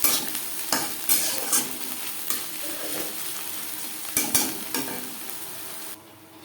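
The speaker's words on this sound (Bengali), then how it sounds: "সেই তেলে দিয়ে দেব পেঁয়াজ কুচি, আর দিয়ে দেব" Chopped onion and two green chillies frying in oil in a pan for a Bengali mashed potato bharta, a steady close sizzle broken by several sharp stirring scrapes, alone without talk.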